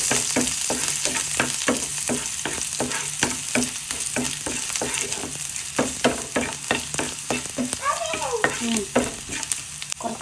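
Shallots and dried red chilies fry in a pan for a Kerala jackfruit erissery, a steady sizzle punctuated by rhythmic, regular scrapes of a spoon stirring, close and moderately loud with no speech.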